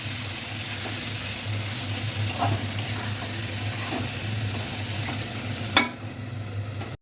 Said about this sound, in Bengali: এই যে চিকেনটা ভাজা ভাজা হয়ে গেছে